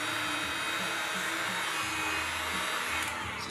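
A heat gun or hair dryer blows in a steady, loud whooshing drone, warming decal material so it stretches onto motorcycle luggage, with no pause across the whole stretch.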